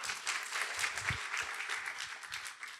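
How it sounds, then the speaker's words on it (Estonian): Audience applause at a pitching event, a brief, moderately quiet patter of many hands clapping that fades slightly toward the end. "ja aplaus palun"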